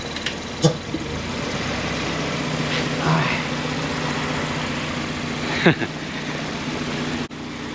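A 1992-95 Honda Civic engine idles steadily with its idle air control valve disconnected, a continuous low rumble running close and even for several seconds, broken by a couple of brief clicks.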